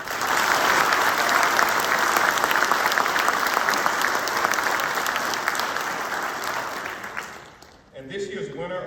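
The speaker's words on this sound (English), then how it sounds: "give them a round of applause, please" Sustained applause from an awards ceremony audience for a group of award nominees, loud and dense clapping for about seven seconds that then fades, followed by a quieter stretch of room sound.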